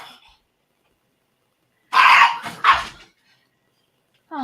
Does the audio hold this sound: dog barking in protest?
yes